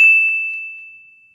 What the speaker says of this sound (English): ring the bell to be notified for our latest video